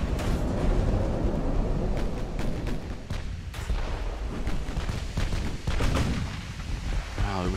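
Battleship secondary guns firing in Ultimate Admiral: Dreadnoughts, a dense run of booming reports and crackling blasts overlapping in rapid succession, loud and near, with rumbling explosions filling the whole stretch.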